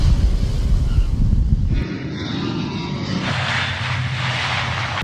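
A fixed-wing airplane roars loudly overhead, a steady broad rumble with some wind buffeting on the microphone, and no one talking.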